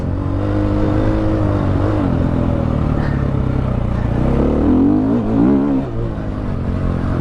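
A 2016 KTM 500 EXC dirt bike engine roars loud and close on a test ride, its pitch rising and falling through revs, with wind and clatter mixed in.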